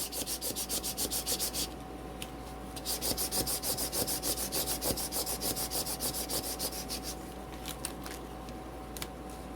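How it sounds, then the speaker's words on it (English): Contact paper being rubbed down with a small spatula for bathroom decor, close rapid back-and-forth scraping strokes in bursts with brief pauses, over a faint steady hum. "I'm going to rub them with my little spatula here"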